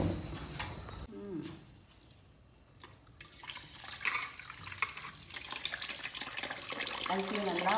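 Soaking rice for milk appam is washed by hand under a running tap, giving steady splashing water and swishing grains, loud and close, with a louder gush toward the end.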